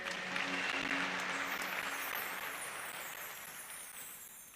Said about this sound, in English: please give yourselves a clap again.